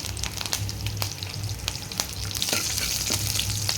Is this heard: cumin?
yes